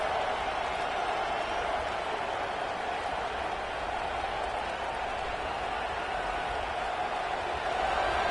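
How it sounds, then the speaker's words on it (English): A college football stadium crowd at LSU versus Georgia roars in a steady, sustained wash of cheering and noise as the defense holds in the red zone, loud and continuous throughout. "the crowd coming to life here, trying to help this defense down in the red zone"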